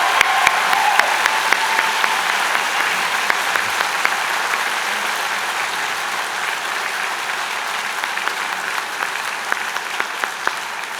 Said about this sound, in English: So how about a huge round of applause and thanks to Lori.